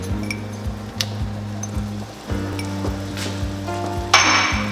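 Whole garlic cloves fry in a pan for Peruvian green pasta, a steady close sizzle punctuated by repeated light clinks of a utensil against the pan and a brighter burst of spitting near the end.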